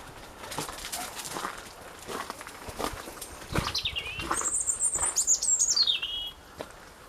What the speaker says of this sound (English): That's a blackbird, I think.